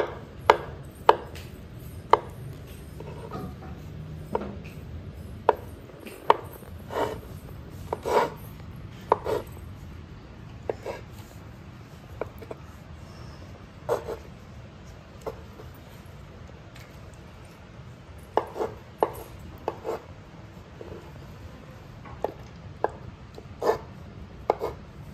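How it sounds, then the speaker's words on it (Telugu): A knife chops peeled ice apple into small pieces on a board, giving sharp, distinct knocks at an uneven pace over a steady low background hum, with no talking. "ఇప్పుడైతే వీటిలో చిన్న చిన్న పీసులా కట్ చేసుకోవడం."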